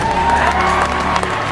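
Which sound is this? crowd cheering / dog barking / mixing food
crowd cheering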